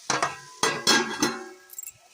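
A metal lid is set onto a cooking pot of potato curry simmering on medium heat, giving several close, ringing clinks and knocks over about two seconds, with a fainter clink near the end.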